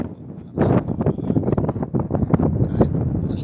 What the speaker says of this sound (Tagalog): Kahit nasa ilalim ka ng tirik na araw, mahangin.